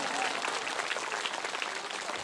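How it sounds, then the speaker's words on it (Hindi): A crowd at a Shrimad Bhagwat Katha religious gathering applauds loudly, a dense, continuous wash of clapping throughout with no pauses. "तो तालियां खूब जोर जोर से सभी लोगों को।"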